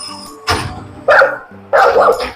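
Dogs bark loudly up close, three sharp bursts in a row with a brief whine between.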